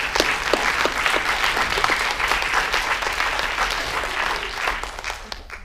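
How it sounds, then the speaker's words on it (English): An audience at a film Q&A for Handsome Devil applauds steadily, dense clapping that holds at a fairly loud level for several seconds before tailing off slightly at the end. "I just like to get a little round of applause as well"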